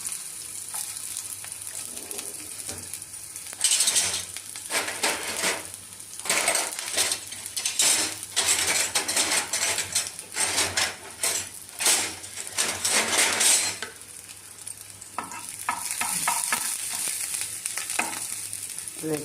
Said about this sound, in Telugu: ఇప్పుడు నెయ్యి అయితే కాగిపోయింది. ఇప్పుడు కొద్దిగా ఆనియన్ వేసుకుంటాము